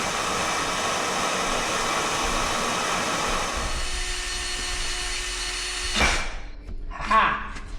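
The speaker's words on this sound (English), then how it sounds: "we're going to come in there with a normal drill bit and hopefully it'll catch and drive them out" A power drill with a plain drill bit whines steadily as it drives old bearings out of a YZ250 dirt bike swing arm, loud and continuous. It cuts off near the end and leaves a couple of brief metallic knocks.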